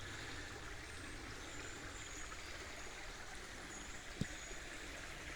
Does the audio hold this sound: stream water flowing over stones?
yes